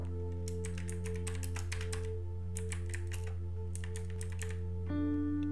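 Fingers type a virtual machine name on a computer keyboard, producing quick bursts of close, crisp key clicks in two runs separated by a short pause, over a steady low electrical hum.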